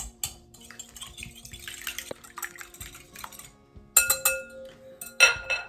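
Room-temperature eggs being beaten in a bowl for gluten-free pumpkin bars, a whisk or utensil clinking and scraping against the sides in uneven bursts, louder toward the end.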